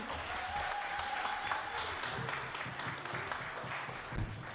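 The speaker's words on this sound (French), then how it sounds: "Vous pouvez les applaudir." Applause from a congregation at a Christmas church service, a soft, steady patter of clapping heard from a moderate distance with a faint tone in the background.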